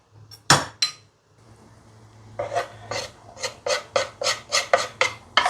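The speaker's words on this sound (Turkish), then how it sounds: "Hemen bu sarımsağımı da doğrayıp içine ekliyorum." A knife chops garlic on a cutting board with a quick series of sharp, close taps, several early strikes, a pause, then a steady run of even chops.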